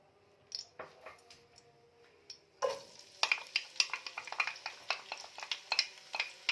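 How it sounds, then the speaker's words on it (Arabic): Oil hisses softly, then a sudden loud sizzle as chopped onions hit four spoons of hot oil in a pot for Libyan mbakbaka, followed by crackling and a spoon scraping and stirring. "هنحط 4 معالق زيت على النار في قلب الحلة، وهنحط البصل بتاعنا"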